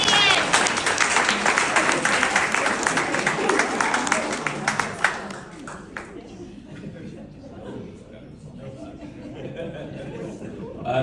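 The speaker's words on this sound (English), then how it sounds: "everybody applauded and was glad to see it happen" Audience applause at an improv show, a warm burst of clapping mixed with laughter and chuckles from the crowd that fades after about five seconds into scattered chatter and voices.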